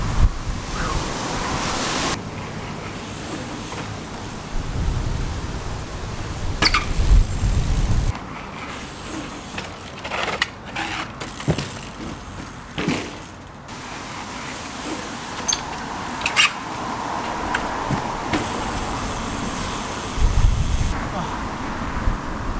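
Strong wind blows by the sea, roaring steadily over crashing surf with heavy buffeting on the microphone, loud and continuous for the whole stretch.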